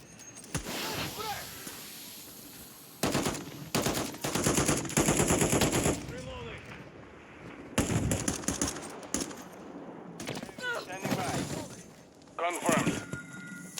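Gunfire in Modern Warfare 3 sniper gameplay crackles in loud bursts and single sharp shots scattered across the stretch, with quieter gaps between volleys.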